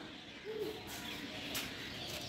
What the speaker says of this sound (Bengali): পাখিগুলো সব বাসাতে ফিরছে, সব পাখিগুলো বাসায় ফিরছে।